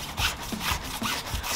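Hand sanding of a varnished wooden dashboard from a Jaguar XJ6: steady, close back-and-forth rubbing strokes in an even rhythm of about three per second.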